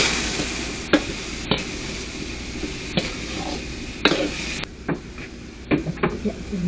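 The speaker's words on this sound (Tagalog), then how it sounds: "Ang gulay, gisa mo man." Vegetables sautéing in a pan, a steady sizzle with scattered scrapes and stirring clicks, close and fairly loud, with faint talk in the background.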